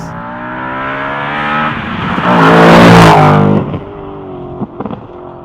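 Audi RS4 B7 with its 4.2L V8 revving hard and accelerating, loud and close, the engine note climbing to a roaring peak then dropping off with a few crackles, no voices.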